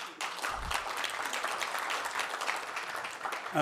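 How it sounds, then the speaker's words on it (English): Audience applause at a political speech in Washington, a dense steady wash of many hands clapping from a room-sized crowd, sustained evenly for several seconds without a voice over it. "appreciate the applause."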